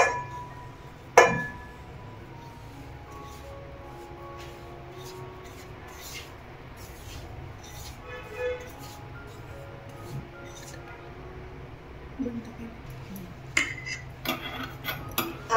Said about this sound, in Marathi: आता आपण याच्यामध्ये रवा टाकून घेऊया